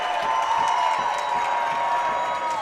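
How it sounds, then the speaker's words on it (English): Crowd noise rising at a men's college basketball game between Kalamazoo and Albion after a made three-pointer, a steady, loud wash of cheering and shouting from the stands. "Now the crowd really getting loud."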